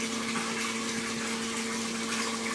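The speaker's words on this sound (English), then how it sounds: "The water is flowing steadily through the system." Water flowing steadily through a pipe system in a fluid mechanics experiment measuring head loss, a constant rushing hiss with a pump-like hum underneath, close and uninterrupted with no talk.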